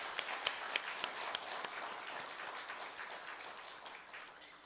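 Church congregation clapping during a Sunday worship service, fairly faint and spread out, with a few sharper claps early on before it settles into a soft, even patter that carries on to the end.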